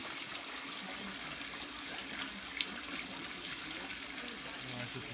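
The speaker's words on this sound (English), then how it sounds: "Well, sluice needs a little more tuning, I think. It needs to slow the water down a little" Creek water running steadily through a gold sluice outdoors, a continuous broadband wash of flowing water with faint trickling detail, fairly quiet and even throughout with no one speaking.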